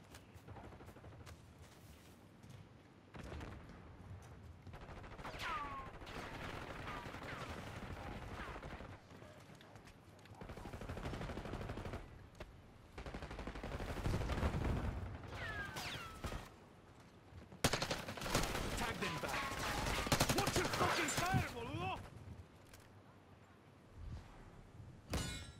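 Video game gunfire crackles in scattered bursts and clangs amid a busy firefight, with metallic impacts and louder volleys in the second half; a voice speaks over parts of it.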